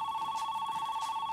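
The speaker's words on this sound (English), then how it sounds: "answer the phone!" A telephone rings in a steady electronic tone at a boxing weigh-in, clear and unbroken for the whole moment with no talk over it.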